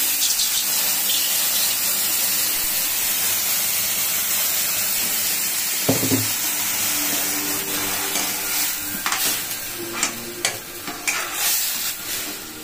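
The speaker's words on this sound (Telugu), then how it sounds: "కాచినటువంటి నీటిని దీంట్లో పోసారు" Boiled water poured into roasted multigrain rava with mustard seeds and salt for upma, a steady broadband hiss and sizzle in the pan with stirring scrapes, and a sharp burst partway through as the hot water hits.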